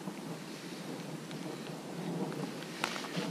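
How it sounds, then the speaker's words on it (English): Rain falls steadily during a storm on a long bike route, a broadband wash with a brief thunder crack near the end, no voices. "and some really scary thunder."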